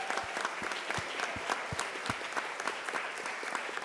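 Audience applause after a showcase session on restaurant food waste, steady dense clapping from a crowd, with some distinct individual claps standing out early.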